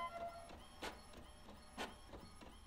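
An in-game printer in The Mortuary Assistant runs off a report, its faint mechanical whir pulsing in a regular rhythm of rolling feed strokes, heard alone.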